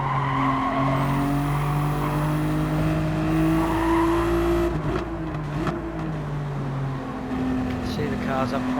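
Race cars tangling and skidding in a sim racing game, with steady engine drones and tire squeal running loud and continuous throughout, shifting pitch as the cars slow and recover, while a voice talks over it.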